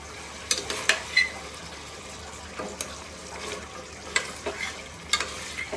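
Masala for mutton pulao fries in a pot while being stirred, with soft sizzling and several sharp scraping and clanking strokes of a spoon against the metal, close and fairly quiet.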